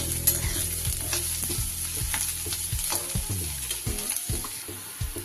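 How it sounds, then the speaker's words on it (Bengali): Finely chopped garlic and ginger fry in oil over onions in a pan, a busy close sizzle punctuated by repeated sharp spatula scrapes and taps against the metal, with no talking. "রসুন কুচি আর আদা কুচি। এগুলো সব আমি খুব ভালো করে তেলের মধ্যে ভেজে নেব।"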